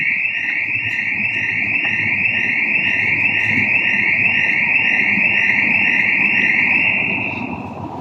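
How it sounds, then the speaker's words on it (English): A car alarm sounds at a Mercedes-Benz car auction, a loud, steady, rapidly pulsing electronic tone that repeats for several seconds before fading slightly at the end. "It has to be that guy that triggered the alarm."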